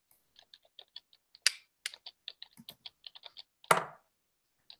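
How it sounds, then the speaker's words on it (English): Typing on a computer keyboard: scattered light key clicks at an uneven pace, with two louder key strikes, faint and fairly close in a quiet room. "I hear typing"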